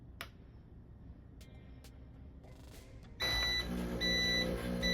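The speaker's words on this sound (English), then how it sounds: "press the single or the double shot for 3 seconds until you hear the beep" An Urintells 20-bar espresso machine sounds a high electronic beep after its shot button is held, followed by a louder steady motor hum with repeated bright beeping tones near the end.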